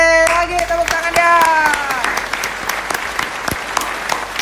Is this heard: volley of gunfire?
no